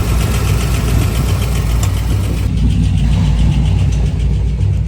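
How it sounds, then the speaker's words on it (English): A Chevy square body truck engine running rough, a loud close rumble with an uneven knock and a repeating rotating noise throughout, and no talking. "The square body's making some noise. I have no idea what it is. Sounds like something rotating, and it also ain't running exactly right."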